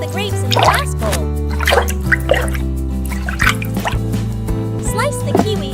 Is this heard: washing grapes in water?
yes